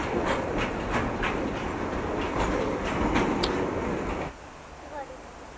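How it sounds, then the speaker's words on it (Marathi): The Mandovi Express passenger train rumbles steadily with clattering wheels close by as it arrives at a platform in light rain, then the noise drops off abruptly near the end, leaving a quieter background. "समोर आपली ट्रेन आलेली आहे मांडवी एक्सप्रेस"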